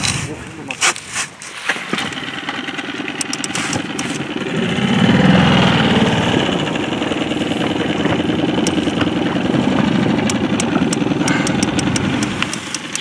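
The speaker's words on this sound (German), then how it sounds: "Ich muss jetzt mal einen Motor anmachen" A boat motor runs on the Rhine with a continuous mid-pitched drone that swells and holds steady, while people speak over it early on.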